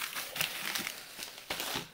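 A plastic bag crinkles in a home kitchen, with steady rustling and several sharper crackling bursts as it is handled up close.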